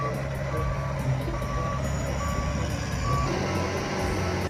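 A toy sand truck gives off steady reversing beeps, regular and evenly spaced, sitting over a continuous low rumble with no voices.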